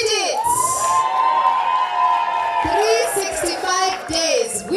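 A crowd cheers and whoops at a Rotary Club of Karen installation ceremony for a new president and board, a loud sustained swell of voices with high shouts rising throughout.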